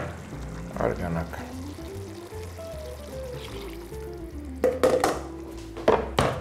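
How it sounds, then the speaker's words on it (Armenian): Broth pours into a pan of Korean-style eggplant with sugar and dried thyme, a rising liquid stream followed by clinks and sizzling, while a voice talks over it. "և ավելացնում ենք արգանակ"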